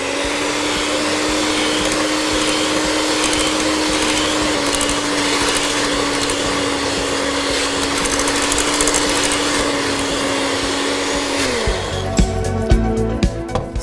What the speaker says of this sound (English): Get your mixer and now mix everything together.